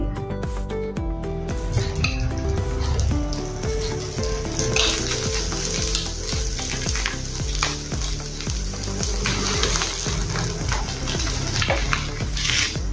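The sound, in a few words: dosa frying in oil on a pan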